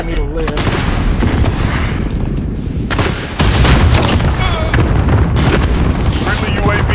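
Rapid booming explosions from an enemy cluster strike in a shooter video game, loud and continuous over dense battle noise, with a heavier burst partway through as players talk over it.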